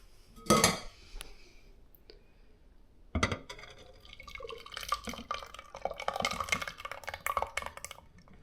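Cooked cherry tomatoes for homemade ketchup pressed through a strainer: a sharp clatter of utensil on metal, then a pause, then a busy stretch of scraping, clinking and wet dripping close by, with no talking.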